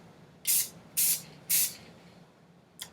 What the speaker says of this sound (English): after you are done spray painting it, you let it dry